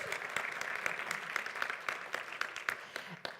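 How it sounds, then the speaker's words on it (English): Audience applause for panelists at a forum in Warsaw, a fairly faint patter of individual claps from a modest crowd, with distinct hand strikes audible throughout. "So a round of applause, please,"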